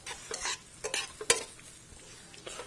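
White wine hits a hot pan of shrimp and pasta ingredients, giving a bright sizzle with scraping stirs and a few sharp utensil clacks against the pan.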